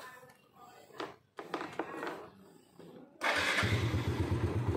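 A used motorcycle, a 2010 model registered in Ponorogo, is started: a brief starter whir, then the engine catches and settles into a loud, steady close idle, with a person talking just beforehand.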